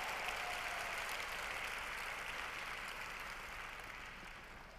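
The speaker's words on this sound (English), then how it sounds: "So give her a round of applause." Audience applause for a speaker on stage, a broad continuous clatter of clapping from a crowd that slowly fades toward the end.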